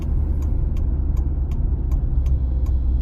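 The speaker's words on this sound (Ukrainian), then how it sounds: "Завчасно вмикаємо правий покажчик повороту" A car's right turn indicator ticks in a steady, even rhythm about three times per second over the constant low rumble of the engine and road inside the cabin.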